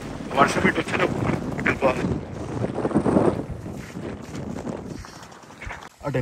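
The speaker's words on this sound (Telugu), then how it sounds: "అటు వెనకాల నుండి గాలి వస్తుంది చాలా." Strong wind gusts over a mountainside during a hike in Alaska, buffeting the microphone in loud, uneven rumbling bursts that ease slightly toward the end.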